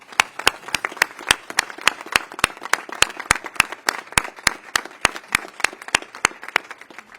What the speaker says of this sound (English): I want to give you a giant round of applause.